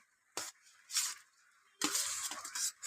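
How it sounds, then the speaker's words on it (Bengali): Pieces of fried paneer go into bubbling curry: a few short bursts of spoon clatter and splashing sizzle separated by quiet gaps, then a longer busy stretch of stirring near the end. "এবার আমি এখানে ভেজে রাখা পনিরগুলো ছেড়ে দেব।"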